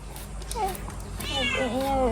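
A cat meows several times in a row, each call rising and falling and the calls growing longer and louder toward the end, close by amid light background noise.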